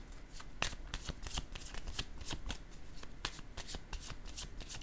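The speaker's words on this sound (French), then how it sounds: "Je vais déposer une carte sur le nœud et la contrainte." Tarot cards shuffled briskly in quick repeated riffles, with a card set down on a table among the crisp, close flicks.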